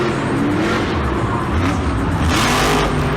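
Monster Mutt Dalmatian monster truck engine roaring at Monster Jam Seattle 2019 freestyle, a loud, steady, dense growl with rising surges throughout, heard alone without talk.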